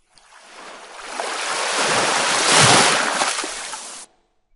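A recorded ocean-waves sound effect plays: a single surf wash swells gradually to a rushing peak, then stops abruptly, with no voices over it.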